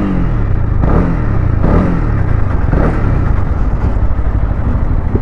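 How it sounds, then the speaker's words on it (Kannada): A Honda CB300R motorcycle engine running steadily and loud, its hum rising and dipping as the rider shifts through gears, a continuous close rumble with brief pitch changes at each shift. "ಟಕ ಟಕ ಟಕ ಅಂತ ಗೇರ್ ಚೇಂಜ್ ಆಗುತ್ತೆ."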